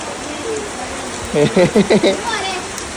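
Steady rain hisses in the background while a person speaks briefly over it at close range.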